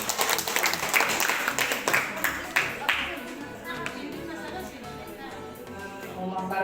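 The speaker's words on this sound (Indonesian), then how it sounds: "Aplaus dulu." Crowd applause at an Indonesian curriculum training session, a burst of clapping that starts strong, thins and fades over several seconds while voices talk underneath.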